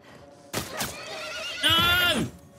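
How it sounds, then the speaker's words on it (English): Horse in The Last of Us remake: a loud, close whinny with a shrill rising and falling whinny near the end, mixed with thuds and game noise, as a voice speaks over it. "No, don't shoot the horse."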